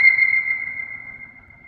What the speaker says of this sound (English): it was Rick that had the idea to run the piano through the Leslie because he had heard that high note